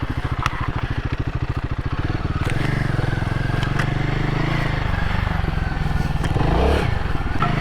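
A Royal Enfield Himalayan 450 motorcycle ridden off-road, its single-cylinder engine thumping in a fast pulse and then climbing into a steady drone that swells near the end, close up, with a few clattering knocks and no speech.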